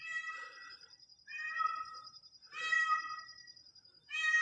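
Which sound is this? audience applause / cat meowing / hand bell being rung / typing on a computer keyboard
cat meowing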